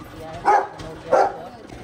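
A dog barks twice, two short separate yaps at close range, aimed at a sugarcane juice vendor standing outside a house during Bhai Dooj celebrations.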